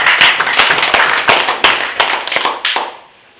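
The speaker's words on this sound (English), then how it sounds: "Let me request you to join me and I give you a very big hand clap." A small audience claps at a curriculum discussion meeting, a loose handful of close, loud individual hand claps in uneven rhythm that thin out and stop after about three seconds.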